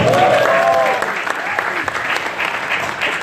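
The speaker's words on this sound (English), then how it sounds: "why not a round of applause, right?" Audience applause at a film music launch event in Dubai, a brief crowd clapping burst that follows a voice and carries on at a moderate level for a few seconds.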